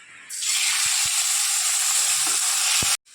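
Cumin and spices hit hot oil and set off a loud, steady hiss of sizzling that holds for nearly three seconds before cutting off abruptly, with no talk over it.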